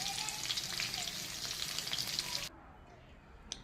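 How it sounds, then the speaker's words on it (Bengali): Potato pieces fry lightly in hot oil with a close, bright, crackling sizzle for about two and a half seconds. The sizzle then cuts out to near quiet, followed by one faint clink. "আমি হালকা করে ভেজে নিয়েছি আলুটাকে"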